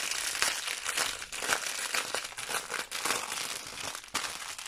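Crinkly plastic packaging of a diamond painting kit is torn open and crumpled in continuous close, loud rustling and crackling, with no speech.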